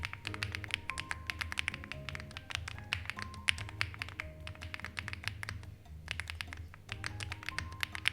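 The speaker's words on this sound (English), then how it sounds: "if you want to just hear what it sounds like, here is a little ASMR for you so you can just experience what this keyboard sounds like" Rapid, steady typing on a mechanical keyboard, crisp clacky keystrokes in quick bursts, close and clear with no voices.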